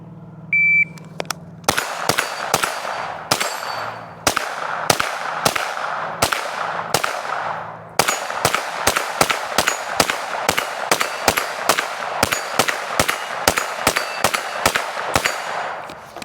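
A Ruger PC Carbine 9mm rifle fires a full magazine, a sharp shot, a short run of quick shots, then over twenty loud, evenly spaced reports, each ringing out briefly, with no talking.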